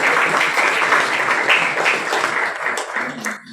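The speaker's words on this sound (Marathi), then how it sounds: "आपण एकदा छान टाळ्या वाजवूया" Audience at a Marathi poetry book launch applauding, a dense, loud burst of clapping that holds steady and then begins to thin toward the end, with no voices over it.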